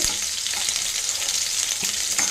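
Food sizzles steadily in a hot pan during Bengali home cooking, frying lightly before salt, turmeric, greens and chickpeas go in. The crackle is continuous, with soft stirring and scraping over it and no talk.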